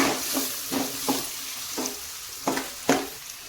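Turmeric stirred into hot oil in a pan while cooking chitranna, a spoon scraping in a run of short, evenly spaced strokes over a soft, steady sizzle, with no one speaking.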